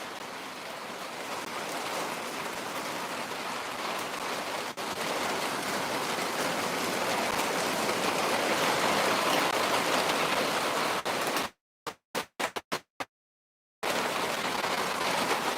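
Steady rain pours down as a dense, continuous hiss lasting many seconds, then cuts out abruptly into choppy silence near the end.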